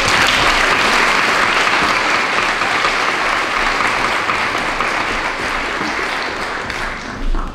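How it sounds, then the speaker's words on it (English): Sustained audience applause at a junior school prize-giving ceremony, a dense steady clapping from a large crowd that continues for several seconds and gradually tapers toward the end. "Can we please give them a round of applause?"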